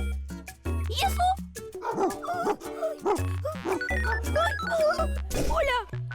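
A dog barks and yips in short bursts, loud and close, mixed over a low musical score with talk around it.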